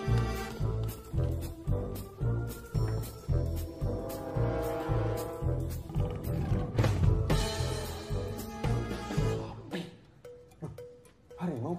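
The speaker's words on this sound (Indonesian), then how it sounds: "Komisar, ada harimau loreng di ruangan Komisar." A striped tiger roars in an Indonesian movie, repeated deep pulsing roars in a steady rhythm, loud and close, overlaid with dramatic film sound.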